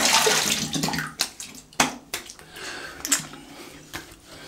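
A razor being rinsed under running water, with splashing and rushing water alongside several sharp taps and knocks against the basin, close up and with no speech.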